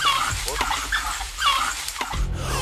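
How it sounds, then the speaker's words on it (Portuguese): African wild dogs attacking a red duiker at MalaMala game reserve, close yips, whimpers and excited high cries in quick bursts, with a voice talking throughout. "Uma batalha feroz entre os cães selvagens e um corajoso cefo vermelho."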